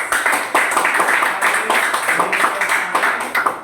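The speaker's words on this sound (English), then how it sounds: "Maybe clap for everybody for having done your best." Students applauding in a classroom after a lesson, a steady patter of many hands clapping together for a few seconds, close and fairly loud, with no talk over it.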